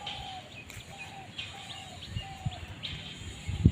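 Pigeons call softly from a rooftop at dusk, with repeated short chirping notes over a steady background hum and a few faint knocks near the end.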